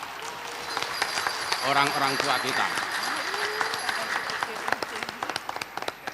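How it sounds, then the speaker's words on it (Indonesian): Audience applause rises at a university graduation ceremony at Instbunas Majalengka in 2025, a moderate wash of clapping beneath a man's amplified speech, with sharp individual claps standing out toward the end. "Berikan tepuk tangan kepada"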